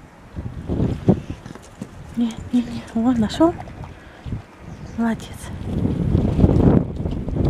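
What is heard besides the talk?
strong cold wind blowing outdoors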